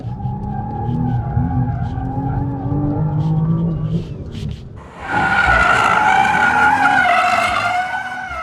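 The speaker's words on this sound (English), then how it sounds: "Basically nothing else than letting it slide. Look at that. An all-wheel drive drift." An Audi RS5 with all-wheel drive drifts through a long slide, its tires squealing in wavering tones over a steady engine roar, loud and close, rising sharply into a fresh skid halfway through.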